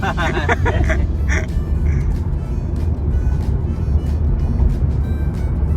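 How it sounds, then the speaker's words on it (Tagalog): Traffic on a busy Bangkok street, Thailand, rumbles as a dense, loud, continuous engine drone close by, with a few horn-like honks early on and clicks over the top. "A lot of traffic."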